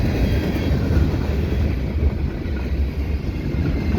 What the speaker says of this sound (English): This is my second train today.